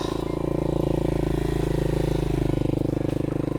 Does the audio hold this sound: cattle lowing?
no